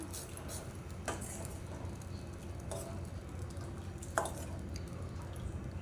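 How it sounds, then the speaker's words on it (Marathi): Cashew and almond paste stirred into hot ghee for a Navratri fasting apple kheer, giving faint, quiet scrapes and soft sizzling with a few sharper spoon knocks against the pan. "आता आपण याच्यामध्ये काजूची आणि बदामाची जी पेस्ट करून घेतली होती ती घालून घेऊया सगळं एकजीव करून घेऊया"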